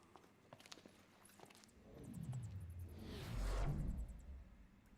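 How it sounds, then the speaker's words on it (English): Footsteps approaching through a castle keep in the fantasy game Spellforce 3, soft scuffing steps building into louder swishing movement over several seconds, with faint clinking, no talking. "Do you hear that? Footsteps."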